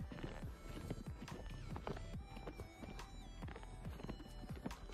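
A horse walks toward water on a cattle farm, its hooves clip-clopping in a steady rhythm, faint and somewhat distant, with a brief whinny-like squeal.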